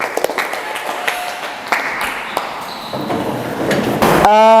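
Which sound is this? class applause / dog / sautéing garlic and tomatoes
class applause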